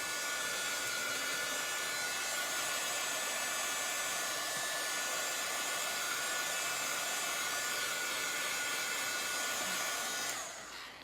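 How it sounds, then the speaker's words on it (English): A heat gun blows a steady, loud, continuous whooshing hiss while drying chalk ink on a canvas bag, cutting off abruptly near the end. "don't get the heat gun too close"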